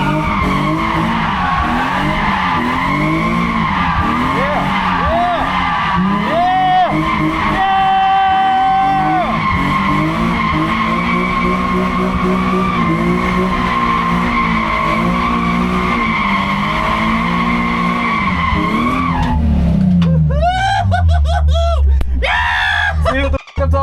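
A drift car's tires screech and skid through long, continuous slides at a drift day, with the engine roaring nearby. People shout and talk excitedly over the noise throughout.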